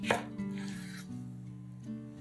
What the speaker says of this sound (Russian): Филе скумбрии нарезаем порционными кусочками.